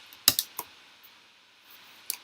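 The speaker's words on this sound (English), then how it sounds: "I'll just use my scissors since this just fish." Scissors snipping through a paper craft piece: a few crisp, close clicks bunched near the start, then a single snip after a quiet pause.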